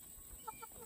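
A hen clucks in a chicken coop just after laying an egg, three quick soft clucks heard close over a quiet background with no talking.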